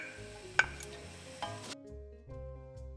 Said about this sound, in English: My oil is heating up. In go my onions.